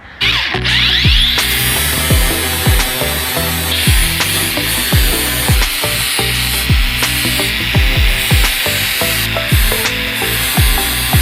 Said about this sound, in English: So I'm using a flap disc, and that should be just fine.